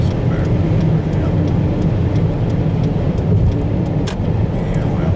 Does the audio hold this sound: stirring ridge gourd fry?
no